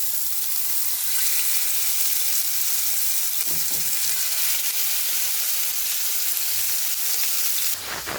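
Kebab shallow-fries in a little oil on a tawa, a loud, close, continuous sizzle with dense crackling hiss that holds steady throughout, with a brief stirring clatter midway and no talking.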